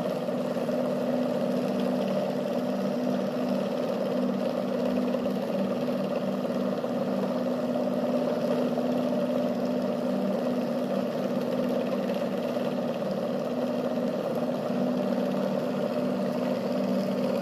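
A brushless DC motor spins on a homemade three-phase controller, giving a steady, continuous hum with strong low tonal bands and an even drone that holds unchanged throughout, with no talking.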